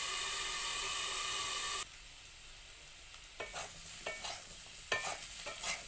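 Potatoes fry in a pan, a bright steady sizzle giving way to quieter hissing broken by scraping stirs and clatters of a spatula, close by with no talking.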